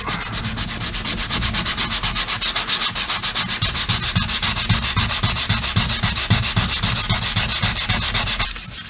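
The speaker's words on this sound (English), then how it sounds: "when you're sanding in the profile like that right there, just fold your sandpaper over" Rhythmic back-and-forth scraping of folded sandpaper on wood baseboard trim, worked into the moulding profile, steady and close, repeating quickly for several seconds without pause.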